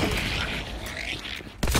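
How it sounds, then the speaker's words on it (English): A mini nuke explodes in a first-person shooter video game, a sustained, dense rumbling blast lasting over a second with a sharp second impact at the end. "Mini nuke exploding."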